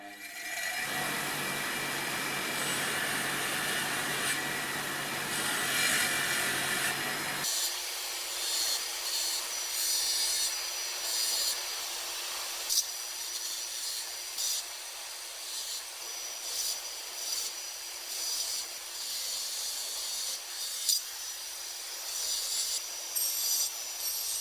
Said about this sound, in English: I can now start to add shine back to the metal using the bench grinder and the large wire wheel.